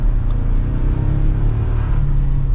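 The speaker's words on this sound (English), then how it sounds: "when you give it some gas" A 2024 Toyota Tacoma TRD Sport's turbocharged four-cylinder engine revs hard and steadily, a loud, close, continuous low rumble with a faint turbo whir riding on top; no voices.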